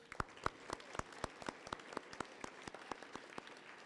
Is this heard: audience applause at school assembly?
yes